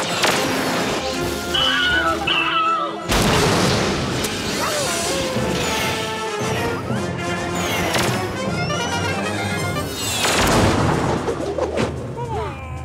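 Cartoon spaceship weapons fire during a space battle in a Garfield robot-attack episode: loud crashing blasts and booms over dense music-like tones, with brief voices mixed in.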